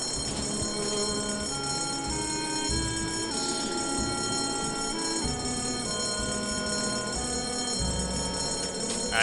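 In the Escape From Monkey Island video game, a fire alarm bell rings continuously, a bright, sustained metallic clanging with layered tones, held at an even level and heard alone.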